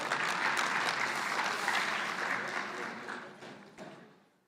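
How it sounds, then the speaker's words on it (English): Audience applause at an education department lekgotla, a dense wash of many hands clapping that holds steady, then fades out over the last seconds. "Give him a big hand of applause."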